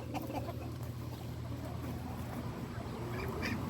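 Ducks quacking among backyard chickens, a dense, steady din of overlapping calls from a flock close by, with no voices.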